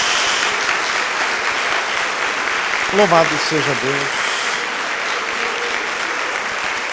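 A church congregation applauds Jesus during a Portuguese-language sermon, sustained loud clapping from many hands throughout while a voice speaks briefly over it near the middle.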